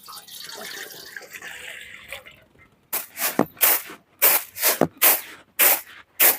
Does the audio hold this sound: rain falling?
no